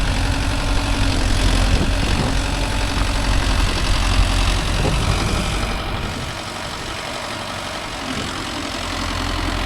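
Mahindra Yuvo Tech Plus 585 DI 4WD tractor engine revving loud and close, a heavy diesel roar held steady, then easing to a lower drone before rising again.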